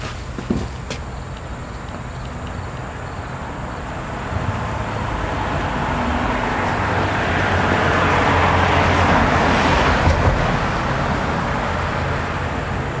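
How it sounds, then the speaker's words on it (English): Continuous traffic noise from a busy street beside a highway, a broad rushing roar that builds as a vehicle goes by nearby, then eases slightly. "I do apologize for all the highway noise"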